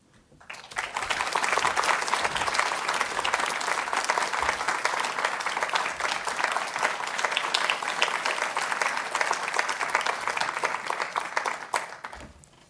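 A university audience applauds after the Henry Russell Award presentation, a sustained, even wash of many hands clapping that swells in quickly, holds steady for about ten seconds, then tapers off.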